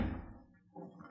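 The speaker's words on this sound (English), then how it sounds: "Shut the door." Sound effect of a door being shut in an old-time Western radio drama, a single dull thud that fades quickly, followed by a faint rustle.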